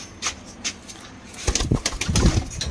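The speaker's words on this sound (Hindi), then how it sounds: "कबूतर डर रहे हैं थोड़ा सा भाई।" Pair of pigeons cooing softly nearby with scattered flutters, then louder bursts of wing flapping and scuffling in the second half, no speech.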